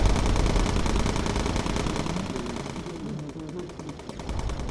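Rapid machine-gun fire from a bomber's turrets in the video game Bomber Crew, a dense, continuous rattling burst that runs throughout and eases slightly toward the end.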